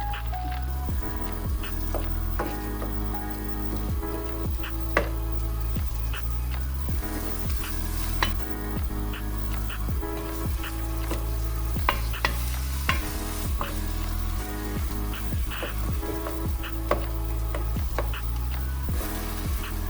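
A ground spice mixture tipped into a hot pot for a chicken ragù sauce, frying with a constant loud sizzle while a spoon scrapes and clanks rhythmically against the pot throughout.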